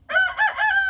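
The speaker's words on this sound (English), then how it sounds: "Now, are you gonna crow for the camera at least?" A rooster in a pen lets out a single loud, close crow, a drawn-out cock-a-doodle-doo lasting about a second, with no talk over it.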